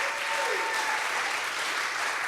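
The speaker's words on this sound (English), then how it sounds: "big round of applause to Trent Lang for his incredible leadership" A crowd at an outdoor rally claps together in a dense, even burst of applause, loud and sustained, with a faint voice or whistle briefly rising near the start.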